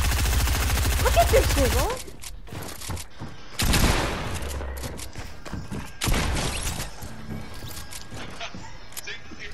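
Video game gunfire in a one-on-one match crackles in rapid automatic bursts, loud and close, with quieter gaps between volleys while someone talks over it.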